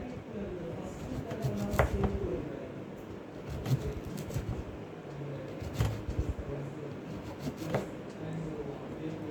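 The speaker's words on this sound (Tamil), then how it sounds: "இப்போ வாழைத்தண்டு நம்ம கட் பண்ணிக்குவோம்" A knife cuts through a banana stem: soft, crisp chopping strikes come about every two seconds, fairly quiet, with a person speaking between them.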